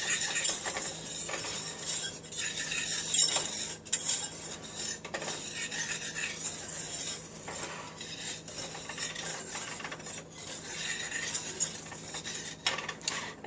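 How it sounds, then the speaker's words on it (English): A whisk beating chocolate pudding ingredients with salt in a bowl, a continuous close scraping and clinking of metal against the bowl, rhythmic and busy, with no speech. "we're going to whisk this all together just so it's nice and incorporated"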